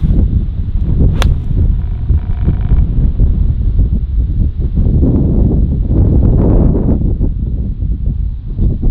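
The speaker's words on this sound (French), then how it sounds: "Là il y a 115 mètres mais alors il y a beaucoup de vent." Strong wind roars steadily across an open golf course at Golf National, a loud low rumble buffeting the microphone throughout, with a brief sharp click near the start.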